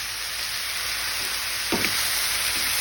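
Sweet and yellow potatoes sizzle in a skillet, giving a steady, even frying hiss throughout with a faint scrape near the end.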